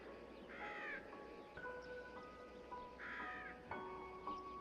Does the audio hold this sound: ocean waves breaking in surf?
no